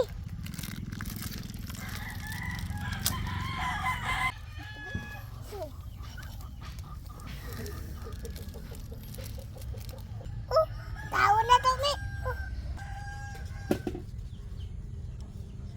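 A chicken clucking and crowing in short scattered calls at moderate distance, over a low outdoor background, with people talking at times.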